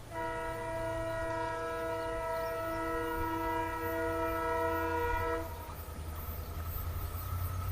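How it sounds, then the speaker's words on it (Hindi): A diesel locomotive hauling a train around a curve sounds a long, loud multi-tone horn for several seconds over a steady rumble of wheels, then the horn stops and the train keeps rolling past. "ये फिर से आया कोई डीज़ल।"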